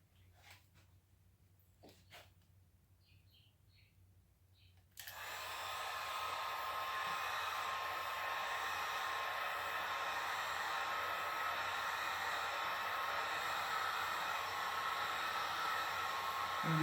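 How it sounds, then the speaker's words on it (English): A blow dryer switches on about five seconds in and roars steadily and close while curing screen print ink on a t-shirt, after quiet handling sounds. "Let me just give it a quick cure with the blow dryer."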